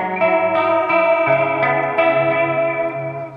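Clean, chimey electric guitar with two humbuckers, played through chorus and delay effects: sustained shimmering chords ring out with several new strums across the passage, close and steady, with no voices.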